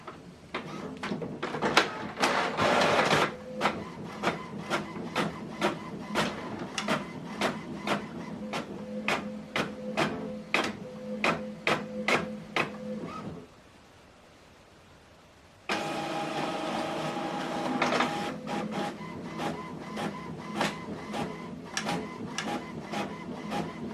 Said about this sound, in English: This document is printing.